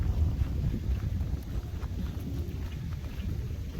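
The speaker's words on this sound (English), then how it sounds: "Still a little windy," Wind blows steadily across a swamp on a walk through the woods, a dense low rumble buffeting the microphone with no voices, continuous and close for a few seconds.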